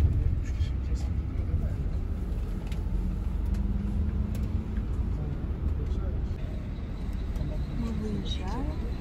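Steady low engine rumble and road noise fill the cabin of an intercity coach travelling from Istanbul to Bodrum, continuous and fairly close, with faint voices murmuring underneath.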